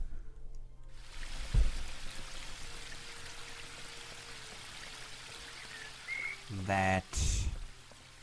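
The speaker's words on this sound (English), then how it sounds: "Okay, I could fill some water into" Water pouring into a jug in the video game The Book of Unwritten Tales 2, a steady rushing stream under faint background tones, then brief louder splashes near the end, with a single spoken word briefly.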